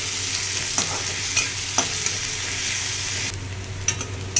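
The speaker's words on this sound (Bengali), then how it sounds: "এবার পেঁয়াজটা হালকা লালচে করে ভেজে নেব" Onions frying in a pan for an egg tarka, a loud continuous sizzle with periodic scrapes and taps of a spatula stirring, and the hiss easing slightly near the end.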